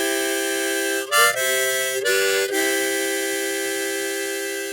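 Harmonica playing the last line of a song, a few sustained reedy single notes with two brief changes in pitch near the start, then a long held tone fading slightly, heard alone and close.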